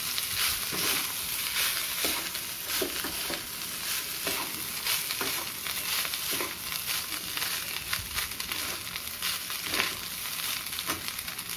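Cooked rice is stirred through a hot pan for coconut rice, with continuous scraping and stirring strokes over a steady sizzle and no talk.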